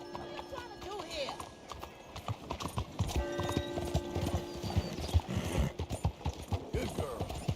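A horse in the Red Dead Redemption 2 game trots with steady, close clip-clop hoofbeats, joined by a brief whinny, while a person talks over it.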